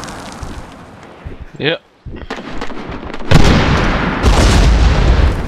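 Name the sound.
grenade explosion in Medal of Honor Warfighter video game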